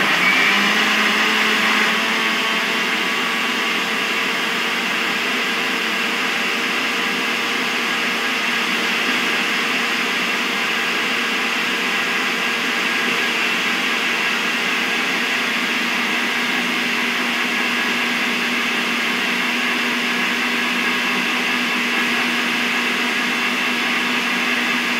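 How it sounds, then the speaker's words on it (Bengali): An electric mixer grinder whirs at full speed in a home kitchen while grinding a paste, a loud, steady motor drone with a high whine that holds unchanged for the whole stretch, with no one speaking. "মিক্সিটা চালু করছি।"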